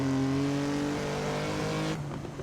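A racing-sim car engine drones loudly at steady high revs, then drops sharply as it upshifts into fourth gear near the end, with a busy hum of road and tyre noise beneath.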